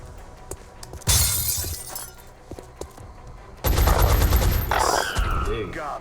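Gunfire in the video game XCOM Enemy Within: two loud bursts of shots with shattering debris, the first around one second in and a longer, heavier volley later, with no talk.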